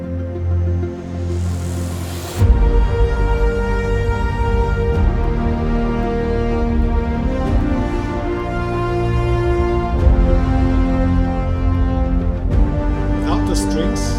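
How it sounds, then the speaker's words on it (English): Epic orchestral soundtrack with layered strings and choir, full sustained chords swelling and shifting over a deep low end, loud and continuous after a brief quieter opening. "choir, the final instrument that I added to that whole track"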